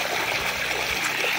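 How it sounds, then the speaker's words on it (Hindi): Irrigation water from a pumpset pipe pours steadily into a farm field being watered before sugarcane planting, a continuous close splashing rush with no break. "वहाँ पे मशीन चल रही है, वहाँ से पाइप आ रहा है, यहाँ आके यहाँ पानी गिर रहा है।"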